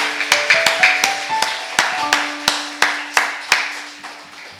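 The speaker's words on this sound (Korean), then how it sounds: "자, 박수 한번 해주시기 바랍니다." Slow, sparse hand clapping in a church service, a dozen or so distinct claps in an uneven rhythm, close and fairly loud, with a sustained organ or keyboard tone underneath.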